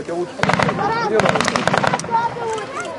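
Rapid bursts of blank gunfire at a World War II battle reenactment depicting spring 1945, cracking in quick clusters of shots close by, with people talking and shouting over the firing.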